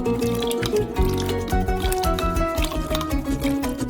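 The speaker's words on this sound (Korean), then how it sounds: "우유가 50도까지 데워지면 스토브에서 꺼내 식초 7큰술을 넣어요." Vinegar pours into a pot of milk warmed to about 50°C off the stove, a steady liquid splashing and trickling close by with no talk over it.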